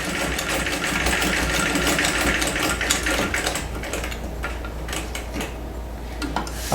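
Vintage Singer 206K treadle sewing machine zigzag stitching through denim at its widest setting, a steady mechanical clatter running continuously at close range with no voices.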